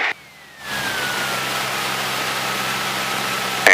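A light aircraft engine settles to a steady idle during a throttle idle check, a constant close drone with a slowly falling whine after a brief dip, then a rise at the very end.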